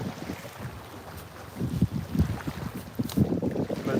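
Gusty wind buffets the microphone out on the water during a fishing outing, with steady low rumble rising into stronger, choppy bursts in the second half, close and fairly loud with no talking.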